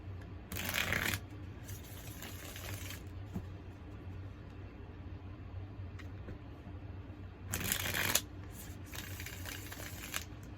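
A deck of cards is riffle-shuffled twice, two quick crisp bursts of flapping cards separated by quiet room tone.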